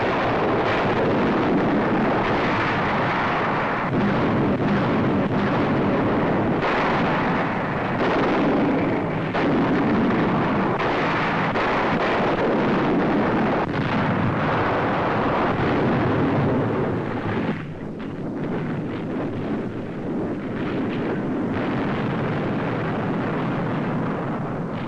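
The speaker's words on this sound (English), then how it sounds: "Some bearing artillery and rocket guns already opening fire." Artillery and rocket guns fire from landing barges approaching the Normandy shore in 1944, a dense continuous roar of blasts and rumbling that stays loud throughout with no talk.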